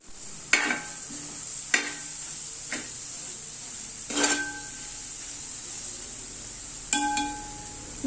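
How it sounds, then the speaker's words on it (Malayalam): Pre-cooked chicken pieces dropped into a hot pan for chicken fried rice, with a steady sizzle of frying and several sharp stirring scrapes of a utensil against the pan, close and fairly quiet. "അപ്പോൾ നേരത്തെ എടുത്ത് വെച്ച ചിക്കൻ ഇതിലിടാം"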